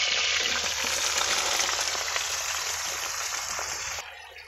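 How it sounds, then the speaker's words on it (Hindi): Zucchini sizzles hard in hot oil, a dense, bright, continuous crackle close up that holds steady, then eases off in the final moment. "तो इसमें मैंने जो सब्ज़ी है वो डाल ली है, मैं 1 मिनट के लिए फ्राई करूँगी।"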